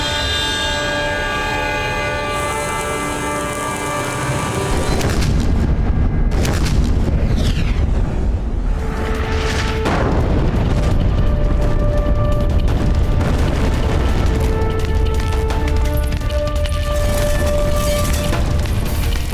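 Cannon fire in a televised historical battle between Rajput forces and Mughals, heavy low booms and rumbling blasts building after a quieter opening and continuing loud and sustained beneath a layered, tonal music score.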